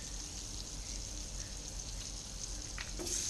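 Beef steak sizzling in a hot pan, a steady close hiss and crackle of frying fat that runs unbroken throughout, with a few faint clinks near the end.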